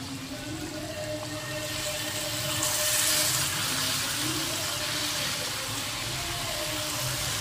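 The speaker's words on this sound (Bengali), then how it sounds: "এবার আমি সামান্য জল দিয়ে দেব।" Water pours into a cooking pan with vegetables, a steady wet rush that swells slightly midway over a low background hum.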